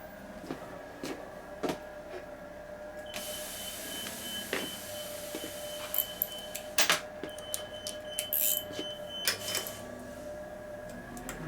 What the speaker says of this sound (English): These screws are backing out, I thought, on something, so I'm gonna make sure these are tight.